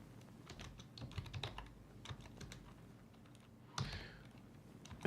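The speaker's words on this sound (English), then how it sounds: "I hope you can see what I'm typing." Rapid, irregular keystrokes clatter on a computer keyboard at close range, with brief pauses, a louder burst near the end and no talk.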